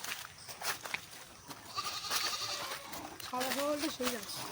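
Goats bleat repeatedly near a village wetland, their wavering cries rising over close talk, with a cluster of loud bleats toward the end.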